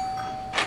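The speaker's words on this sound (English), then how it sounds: "Did you hear that? The doorbell then." A doorbell chimes indoors as a thin, steady electronic tone that runs under a quiet room, followed by a brief, brighter burst near the end.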